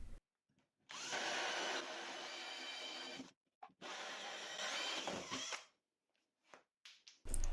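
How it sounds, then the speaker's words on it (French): Hole saw 40 mm cutting through plywood after a pilot hole, two sustained loud bursts of drilling with a short pause between, then brief clicks and handling noise at the end. "Je fais un avant-trou et je perce avec une scie cloche de 40 mm de diamètre."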